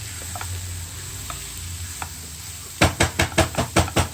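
Chopped eggplant sizzles quietly in a pan, then gets stirred in a quick run of about eight scraping, rhythmic strokes that ring out louder over the steady frying hiss.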